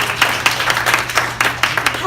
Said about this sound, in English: Will you please give Caitlin a round of applause?